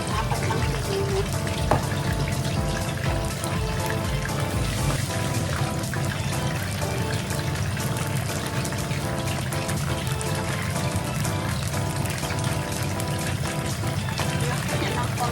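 Chicken pieces sizzling in hot oil in a pan for lemongrass chicken, a steady dense crackle and hiss that runs throughout, close and fairly loud, while a person talks over it.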